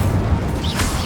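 Incendio fire spell cast in Hogwarts Legacy, a dense roaring burst of flame with a rising whoosh near the end, loud and close amid game combat noise.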